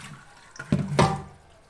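Rice rinsed in water in a home kitchen while preparing masala rice gives a couple of close, splashy swishes and sloshes, short and fairly loud, with no speech.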